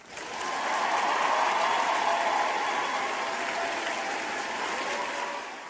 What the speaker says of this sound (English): Round of applause to all of y'all.